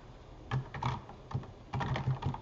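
Keys clatter on a computer keyboard in short close bursts of quick taps, with brief pauses between the clusters and no voice over them.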